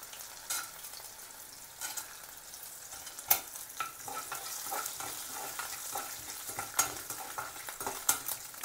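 Husked peanuts frying in hot oil with cumin and green chillies, a crackling sizzle under repeated sharp stirring clinks and scrapes of a spoon against the pan.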